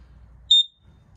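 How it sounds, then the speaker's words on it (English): An LP carbon monoxide detector in a travel trailer gives a single short, piercing high-pitched beep during a button test, loud and close against a quiet low background hum. "If you push the button and hold it, there's the carbon monoxide side of it."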